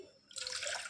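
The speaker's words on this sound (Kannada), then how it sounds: "ಇದಕ್ಕೆ ನಾನು ಇನ್ನೊಂದು ಕಪ್ಪನ್ನು ನೀರು ಹಾಕ್ತೀನಿ" A cup of water poured into a vessel while making falooda: a short splashing pour that starts abruptly after a brief quiet moment, close and clear.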